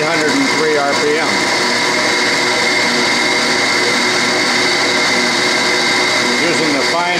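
Steady mechanical whir of a shop machine's chuck spinning at 803 RPM, a continuous loud hum with faint speech-like sounds mixed in.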